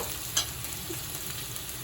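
Chow mein stir-fried in a pan at home gives a steady close sizzle with scraping stirs and one sharp clack near the start; no voices.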